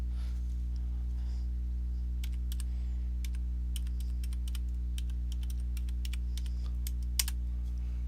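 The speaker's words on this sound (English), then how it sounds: "Now we're going to type bintech.local and then press enter." Typing on a computer keyboard while entering a network lookup query, a run of quick, light key clicks over a steady electrical hum, with one slightly sharper keystroke near the end.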